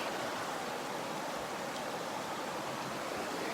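Creek water in Oak Creek Canyon flows steadily as a continuous broadband rush, close and even throughout with no voices.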